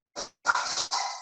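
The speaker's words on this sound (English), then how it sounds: "Sorry, my little puppy is getting excited." A small puppy gives a short yip followed by a longer string of excited, high-pitched barking and whining, close and fairly loud in an otherwise quiet indoor space.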